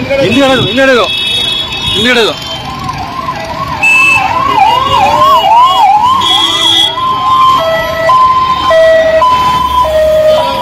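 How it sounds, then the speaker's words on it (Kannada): Ambulance sirens on a cleared zero-traffic route to Jayadeva Hospital in Bengaluru sound loud and close, with overlapping wailing and yelping tones that sweep and switch patterns throughout. "ಇನ್ನೂ 2 ಆಂಬುಲೆನ್ಸ್ ಅವೆ."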